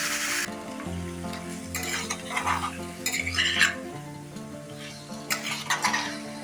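Chicken being stirred and sautéed in a pan at home, with scraping utensil strokes and a steady sizzle over a low background hum with horizontal tonal bands, close and moderately loud, no talking.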